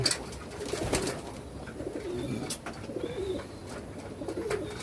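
Racing pigeons coo in a loft, low soft rounded calls repeating steadily at close range with brief pauses and faint bird chatter in the background; no one talks.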